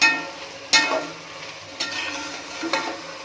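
Onion with a cinnamon-clove paste fries in a pan for cabbage rice bath, a steady sizzle broken by three or four scraping stirs of the spoon, close and fairly loud, with no talk.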